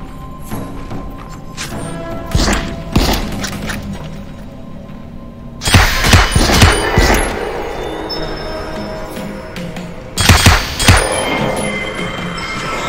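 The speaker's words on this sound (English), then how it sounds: "I love it when they shoot the decoy." Gunfire shots at a decoy in the video game The Light Brigade, sharp cracks in clustered bursts separated by quieter stretches, loud and close.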